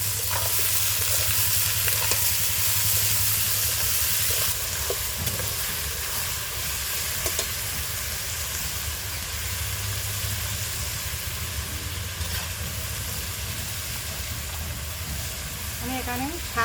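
Chopped raw banana and potato frying in a pan: a loud, continuous hissing sizzle that persists steadily throughout, close up, with faint scraping of stirring mixed in.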